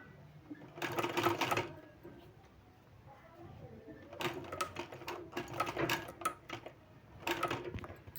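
Sewing machine stitching a sleeve with a decorative design, heard in three separate bursts of rapid, close mechanical clatter with quieter stretches between them.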